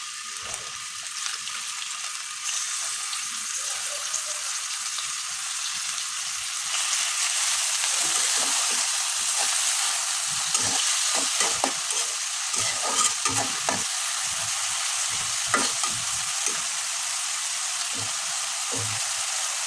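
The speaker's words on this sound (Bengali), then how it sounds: "পেঁয়াজের সাথে আমরা গোটা গরম মশলা যেগুলো ছিল ওগুলো দিয়ে দেবো।" Onions fry with whole garam masala in hot oil, a steady close sizzle that grows louder midway, broken by frequent scraping stirs of a spoon against the pan.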